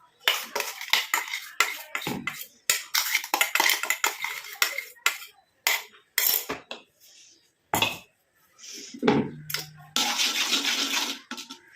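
Homemade natural hair dye ingredients are scraped and tipped into an iron kadai, with metallic clinks, spoon scrapes and clattering in irregular bursts, close and fairly loud, ending in a longer rustling scrape.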